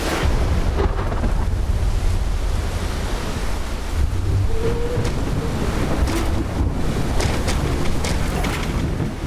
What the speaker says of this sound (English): Heavy wind, choppy seas, torrential downpours.